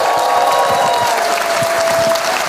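A crowd of party members claps steadily for party leader Cho Kuk at a Gyeongnam members' meeting, the applause even and sustained throughout, with no voices over it.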